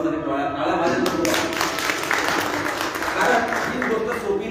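Audience at a motivational talk applauding for Kadam sir, a broad burst of clapping and crowd noise that fills the space, with a speaker's voice heard over it.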